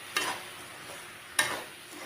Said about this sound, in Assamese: যেতিয়ালৈকে আঠা হৈ নাযায় তেতিয়ালৈকে ভাজিয়ে থাকিব লাগে